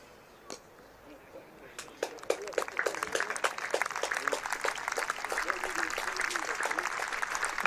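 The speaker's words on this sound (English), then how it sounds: "That's a big round of applause from the crowd here at Liverpool as Bohannan brings his 50 up again." Cricket crowd at a one-day match in Liverpool applauding a batsman reaching fifty, scattered claps that swell into sustained open-air applause, heard from a distance, with a commentator talking over it.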